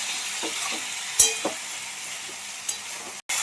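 Chicken tehari being stirred and mixed in a pan, a constant close sizzle broken by a few scraping strokes of the spoon, no voices.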